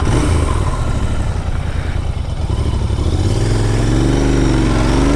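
Motorcycle engine on the move, loud and close, holding a steady drone before the revs climb in a rising pull as the bike accelerates.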